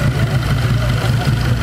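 A loud tuned Peugeot "Super Pug" hatchback rumbles steadily at close range with a deep, even low drone for a brief moment.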